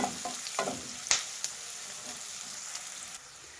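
Chopped onions fry and get stirred in a pan for leftover-rice oggarane, a quiet continuous sizzle broken by a few scraping strokes of the spatula early on before settling into a gentle hiss.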